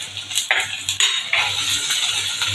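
Garlic, green chili and ginger are sautéed in a pan, heard as a few sharp metallic clinks of a utensil against the pan over a soft continuous sizzle, close and fairly loud.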